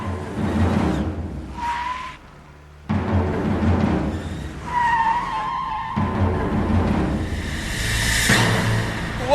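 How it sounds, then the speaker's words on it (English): Loud tire screeching from a car braking hard and skidding, several drawn-out squeals over steady engine and road noise, close and intense. "let's give these brakes a little test, shall we?"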